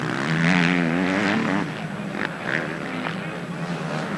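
A motocross bike engine screams close by during an MX2 race at Bellpuig, a loud revving whine that rises and falls as it passes, with faint voices underneath.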